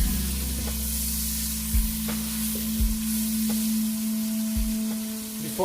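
Onion frying in a pan over medium heat, a steady soft sizzle running throughout with a few brief utensil clacks against the pan.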